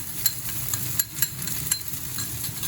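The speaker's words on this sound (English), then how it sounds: "Keep stir frying." Chicken cubes and onions sizzle steadily in hot oil while a utensil scrapes and stirs in quick, regular strokes.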